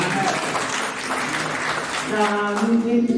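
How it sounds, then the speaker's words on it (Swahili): A church congregation claps loudly and continuously for Jesus, with voices and a sustained singing or shouting tone rising over the applause toward the end. "Pigia Yesu makofi"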